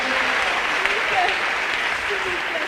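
A church congregation applauds in steady, dense clapping, loud and close, with voices mixed into the noise.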